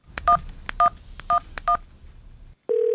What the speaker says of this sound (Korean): 저는 남편 친구 대성 씨에게 전화를 걸었습니다